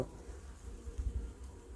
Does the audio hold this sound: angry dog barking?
no